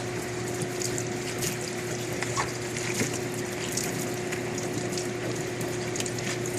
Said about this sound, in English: Now he's rinsing all the residue off.